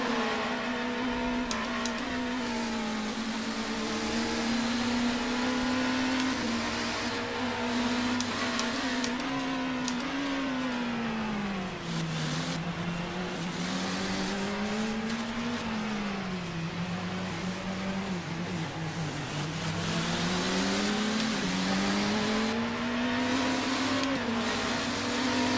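A race car engine at full throttle in the GTR2 sim during a 2015 WEC race at Silverstone, a continuous loud whine that rises and falls with upshifts and braking over about 25 seconds, with no voice over it.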